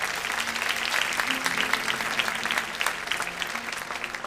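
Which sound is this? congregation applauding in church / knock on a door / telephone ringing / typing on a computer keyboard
congregation applauding in church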